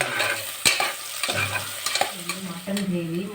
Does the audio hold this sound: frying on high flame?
yes